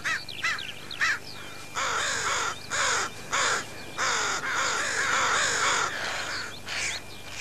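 Crows on the coast give repeated harsh caws in irregular bursts, several birds calling close and loud with short gaps between calls.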